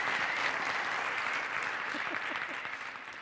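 Audience applause at a product marketing debate: a dense, steady wash of many hands clapping close by, sustained throughout and easing slightly toward the end.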